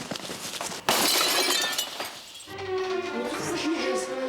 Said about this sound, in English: The Kushnicks were awakened by the terrifying sound of glass breaking